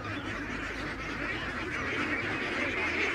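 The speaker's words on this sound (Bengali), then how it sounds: "বন্ধুরা দেখছেন এই যে খামারে যেভাবে হাঁসকে খাওয়ানো হয়, এই যে কাকা ঠিক ওইভাবে খাওয়াচ্ছে।" Ducks at a village livestock market in Bangladesh quack and honk in a dense, continuous crowd noise with no pauses.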